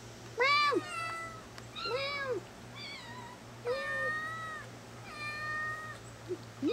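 A cat meows repeatedly, five or six clear, drawn-out calls in a row at close range.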